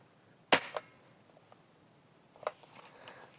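A ZM93 toy rifle fires a sharp snap with a quick follow-up click, and a second, softer shot comes a couple of seconds later against a quiet background.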